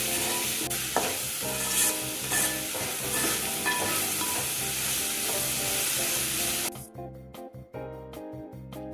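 Banana flower sautéing in a pan with tomato and tamarind gives off a dense sizzle with stirring scrapes over a steady background. Near the end, the hiss drops away, leaving softer intermittent stirring and clinks.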